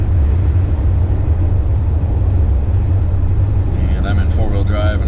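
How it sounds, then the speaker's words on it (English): A 4x4 in four-wheel drive rolls along an icy Colorado highway during a blizzard, its engine and tire rumble a loud, steady low drone throughout, with a voice briefly speaking near the end. "we're basically driving on a solid sheet of ice right now"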